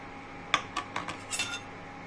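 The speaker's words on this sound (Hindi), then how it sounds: "अच्छे से इसे मिलाएंगे ताकि इसका जो लम्स है वो हट जाए" A milk powder, milk and sugar mixture being stirred in a pan for a bread-based sweet, heard as a few sharp clinks and scrapes of a spoon against the metal, close and fairly faint over a quiet background.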